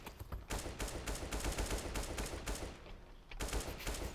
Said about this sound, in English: Ooh, that's some nice shots right there, though.